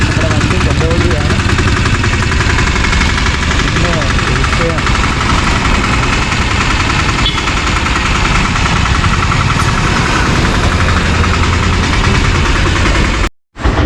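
A new 2023 Piaggio Ape auto-rickshaw engine drones steadily while the vehicle drives, a loud continuous rumble with constant vibration throughout, cutting out briefly near the very end.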